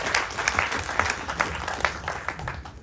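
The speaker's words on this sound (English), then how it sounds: "Clap for him." An audience at a night event claps, producing a steady close wash of applause with some individual hand claps standing out, alone without voices over it.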